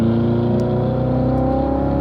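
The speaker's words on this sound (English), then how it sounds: "Accelerate hard, automatics up to 4th" Race car accelerating hard on a track with an automatic transmission shifting up toward fourth, its engine a loud, sustained, harmonically rich roar heard from inside the cabin.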